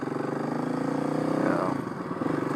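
Kawasaki KLX 351 big bore motorcycle engine running near and loud, a steady thrum with a slight rise in pitch around the middle before settling back.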